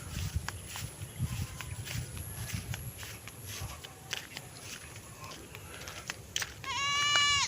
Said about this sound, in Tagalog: Sumagot yung kambing.